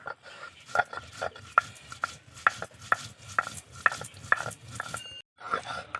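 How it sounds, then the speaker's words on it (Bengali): Cumin seeds are ground into a paste with rhythmic, evenly spaced strokes, each a sharp grinding scrape close by, repeated about a dozen times with no talk. "জিরাটা বেটে নিচ্ছি"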